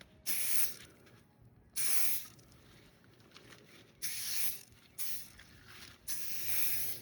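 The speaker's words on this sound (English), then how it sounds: "So now we're just going to spray him" Five sharp, hissing spray bursts of grooming product from a nozzle onto a Highland bull calf, close up, each lasting about half a second to a second, separated by quiet pauses.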